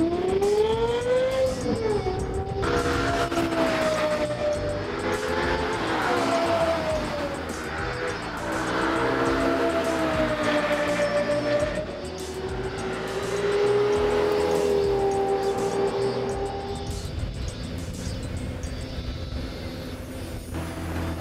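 A fast car laps a 14-turn race track, its engine climbing and dropping through gears with whining tones and brief tire noise, heard from inside under occasional talk.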